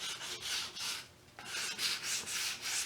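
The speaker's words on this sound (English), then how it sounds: "I'll use that line of folded sandpaper to make lines in the thicker white spots" Folded sandpaper sanding white chalk-painted wood along the grain, giving repeated rhythmic scratchy rubbing strokes, close and fairly loud, with a short pause midway and no talking.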